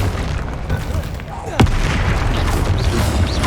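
Confringo fire spells burst in Hogwarts Legacy on PC, booming blasts with a sharp crack and dense low rumble, loud and continuous, with a voice talking over the action.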